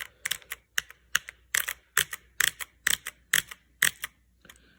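Clicky Cherry MX Blue keyboard switches pressed in a steady run of about ten sharp, bright clacks, close and alone with no talking.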